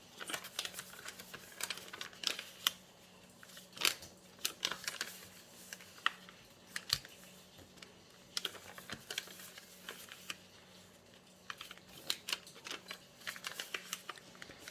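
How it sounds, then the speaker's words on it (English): Origami paper being folded and creased by hand, with soft rustles, crinkles and light taps scattered irregularly throughout, close and quiet with no talking. "we're going to fold it, we're going to fold this here"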